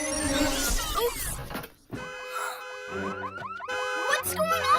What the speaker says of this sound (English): Uh-oh, an alarm.